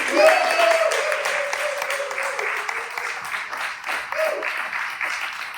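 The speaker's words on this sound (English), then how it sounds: "Can we give her a round of applause, please?" An audience at a keynote talk applauds a speaker, a dense, sustained patter of many hands that starts strong and tapers slightly, with a voice speaking faintly through it.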